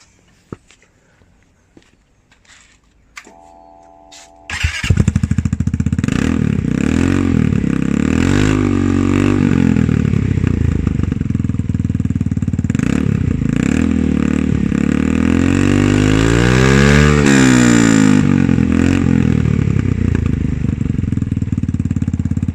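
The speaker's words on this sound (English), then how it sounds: "we'll try the bike with the baffle out" A Royal Alloy GP300 scooter engine fires up after a few quiet seconds, then revs loudly and repeatedly with a harsh, open exhaust roar from its baffle-removed exhaust that rises and falls.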